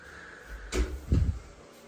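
A glass shower door in an apartment bathroom closes: a sliding scrape, then a solid thud and a short rattle against its frame, heard close in a quiet room.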